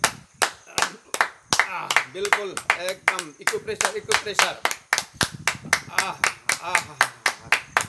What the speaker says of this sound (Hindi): अब सुंदर सा जी सबको ताली से स्वागत करेंगे, गुरु जी को स्वागत करेंगे